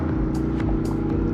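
A Ducati motorcycle with an Akrapovic exhaust and its dB killer removed idles with a loud, raw, throaty exhaust, a steady deep rumble with slight pulsing throughout.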